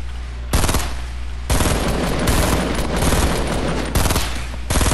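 Gunfire from a Fortnite battle royale match: dense, loud bursts of rapid shots come in two long stretches separated by brief lulls, with no speech over them.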